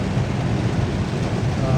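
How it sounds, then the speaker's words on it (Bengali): Heavy rain pours in a constant, loud hiss with a low rumbling undertone, steady throughout the short stretch. "এই যে কত বৃষ্টি পড়তেছে"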